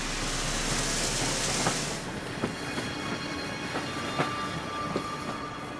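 A train rolls along the rails with a steady rumble and a regular rhythm of wheel clicks over the joints, fairly loud and continuous, with a hiss easing off early on.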